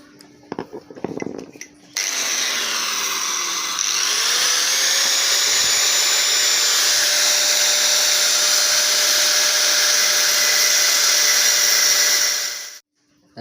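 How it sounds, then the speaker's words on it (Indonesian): An angle grinder whines steadily against the clutch housing of a Honda Astrea Grand motorcycle, starting abruptly after a brief clatter and holding a loud, even high-pitched drone for about ten seconds before spinning down. "Kita gerinda tipis-tipis saja."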